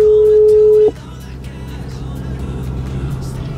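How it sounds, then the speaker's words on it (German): A mobile phone call gives a single steady ringing tone that cuts off abruptly after about a second, leaving a low background hum. "Wir rufen jetzt Peter an, okay?"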